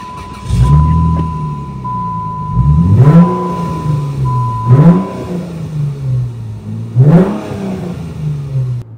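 A stock-exhaust Plymouth Prowler engine revs loudly and close up in three or four rising bursts, each climbing and falling back to a steady idle, with no talk over it.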